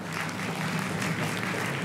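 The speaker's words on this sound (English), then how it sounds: "first I want to give the cooks a round of applause." Applause for the cooks at the Syeyutsus Celebration, a steady wash of many hands clapping through the whole moment, dense and fairly loud with no pauses.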